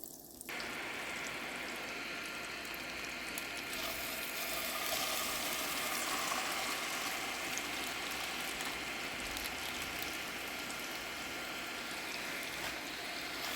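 Lobster tails dropped into a hot pan of melted butter and bacon fat in Belize, hissing and sizzling in a steady, fairly loud wash that starts after a brief quiet moment and continues unbroken.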